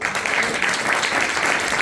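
A church congregation claps for Jesus during a pastor's sermon, a dense, even wash of many hands applauding together, steady and fairly loud throughout.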